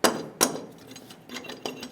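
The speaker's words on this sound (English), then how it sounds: "If your bracket's stuck, go ahead and tap it with a hammer." A hammer taps a stuck steel bumper bracket on a 2005-2015 Toyota Tacoma, giving several sharp metallic knocks at uneven intervals, close and clear.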